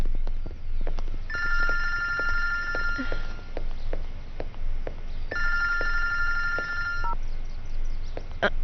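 A telephone rings in two long electronic bursts separated by a pause, clear and close, over a low background hum with faint movement noises.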